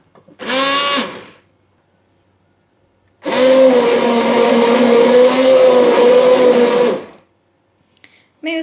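A blender whirs through apricots and water to make juice, with a brief one-second burst followed by a steady, loud four-second run, then silence.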